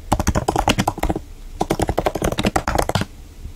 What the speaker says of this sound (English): we simply type